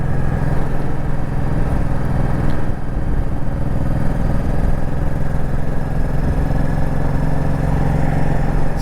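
A 2007 Honda Shadow Spirit VT1100C cruises in fifth gear along a highway, its engine holding a steady, loud low drone mixed with constant wind and road noise throughout.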